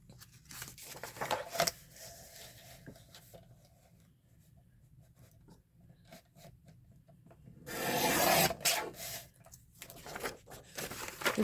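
A small handmade paper book is trimmed down, with soft rubbing and scraping of paper up close, faint intermittent cuts, then a louder, sustained rasping stretch near the end.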